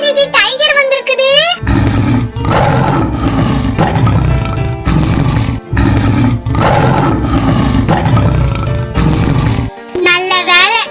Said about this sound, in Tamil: ஐயோ, என்னது இது? டைகர் வந்திருக்குது.